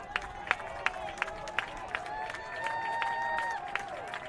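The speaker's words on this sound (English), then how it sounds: "Now we got 15 up on the board. That draws a cheer." A stadium crowd at a college football game between Georgia Military College and Louisburg gives a steady, moderate cheer with scattered claps and whistles rising through the middle, heard from a distance.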